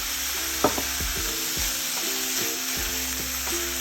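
Mustard seeds dropped into a jackfruit curry over high flame, a close steady sizzle with rhythmic clinks and scrapes of stirring in the pan.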